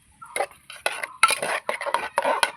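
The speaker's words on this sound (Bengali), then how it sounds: "প্রেসার কুকারটা ঠান্ডা হয়ে গেছে, খুলে নিচ্ছি।" Clattering metal knocks and scrapes from opening a cooled pressure cooker of moong dal with bottle gourd, several short bursts close by in a quiet kitchen.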